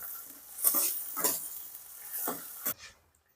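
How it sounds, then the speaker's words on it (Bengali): Prawns, about 250 grams, stir-fried lightly in a pan, giving a few bursts of sizzling and scraping as they are turned, fairly quiet, then a short pause. "চিংড়ি মাছ আড়াইশো গ্রাম ওটা এর ভেতরে দিয়ে দেবো এবার এটাকে নেড়ে চেড়ে হালকা করে ভেজে নেব"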